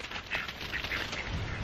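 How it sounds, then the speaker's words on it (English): Ducks quacking outdoors on a windy, cold morning at a homestead, a few scattered calls over steady wind noise, moderately close. "Crazy ducks."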